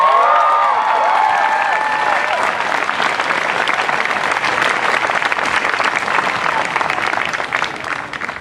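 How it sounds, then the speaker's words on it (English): A large crowd applauds seniors at a school opening day ceremony, loud sustained clapping with some cheering that fills the whole stretch, early shouts and whoops fading into steady dense applause. "Let's give them a round of applause."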